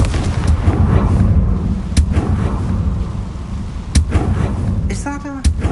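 A Confringo fire spell from the video game Hogwarts Legacy erupts in sharp explosive blasts that punctuate a continuous deep, loud rumble. A brief tonal flourish comes just before the final burst.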